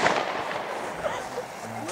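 A Triplex Cyrkowic S firework goes off outdoors on New Year's Eve, giving sputtering crackles and a sharp opening pop over a noisy, rumbling night background with people talking.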